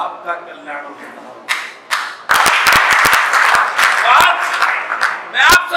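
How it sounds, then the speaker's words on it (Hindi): A political rally crowd claps in scattered bursts that swell into a dense round of applause, with a voice speaking loudly over and between the claps. "मैं आप सबसे ताली मत बजाओ, ये ताली बजा के चले जाते हो कुछ नहीं होता भाइयों।"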